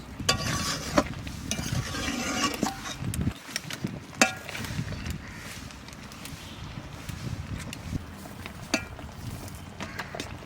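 Raw mango pickle with jaggery is stirred in a pan, giving a steady soft scraping and sizzling with irregular clinks of the spoon against the metal.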